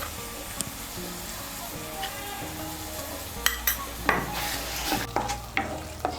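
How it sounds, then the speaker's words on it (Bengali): Spices being stirred into oil in a pan while cooking a vegetarian young jackfruit dish, with soft scraping strokes, a few louder clinks of the spoon against the pan and a gentle sizzle underneath, fairly close. "তেলের সঙ্গে মিশিয়ে নিয়ে মশলাটাকে ভালো করে কষিয়ে নেব।"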